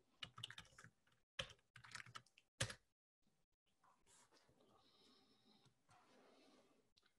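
Someone types search terms on a computer keyboard, giving bursts of quick, clicky keystrokes with short pauses, then a quieter stretch of faint hiss.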